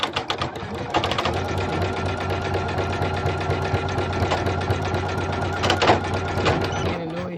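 A Poolin sewing machine running a satin stitch, churning loudly and steadily with a rapid mechanical clatter and an uneven knocking noise throughout, alone without talk.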